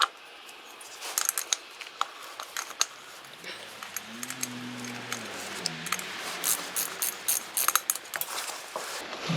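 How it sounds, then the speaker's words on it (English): A small 12 mm wrench turns the oil filter housing bolt on a Honda CB750 motorcycle, producing repeated close metallic ratcheting clicks and taps in an irregular rhythm over several seconds, with a brief low hum partway through. "I've got the oil filter in, I've got the new O-ring on, and a little 12 millimeter wrench here"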